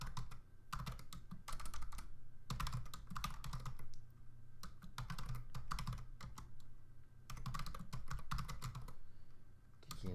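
Fast typing on a computer keyboard during Python coding, close rattling clicks in bursts of several seconds separated by short pauses, with no voice over them.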